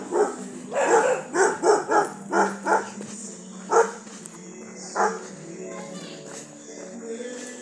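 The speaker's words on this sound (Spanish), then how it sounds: "Y los perros." Several dogs bark in a rapid series of yaps, then a couple of single barks follow, with children's voices and outdoor chatter in the background.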